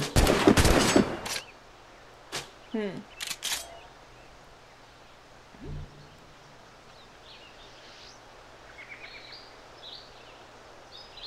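Gunfire in the pirate game Assassin's Creed 4 Black Flag comes as a loud opening volley, then a few sharp separate shots, before fading into a quiet ambient bed with faint distant sounds.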